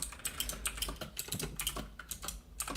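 Rapid typing on a computer keyboard, close and clear, with uneven bursts of key clicks and short pauses, no voices.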